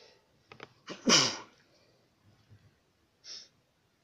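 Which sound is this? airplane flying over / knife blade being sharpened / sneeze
sneeze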